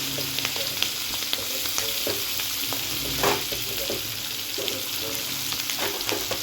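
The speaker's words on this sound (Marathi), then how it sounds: "मोहरी तडतडते, यामध्ये थोडी हळद टाकूया आणि शिमला मिरची टाकून घेऊया।" Capsicum frying in hot oil with crackling mustard seeds and turmeric: a loud, steady sizzle with scattered pops and occasional stirring scrapes, close up and without talk.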